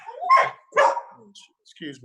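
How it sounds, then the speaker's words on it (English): A dog barks twice in quick succession nearby, loud and sharp, followed by softer yips, with a voice in the background. "My dog gets all excited by the guy that mows next door"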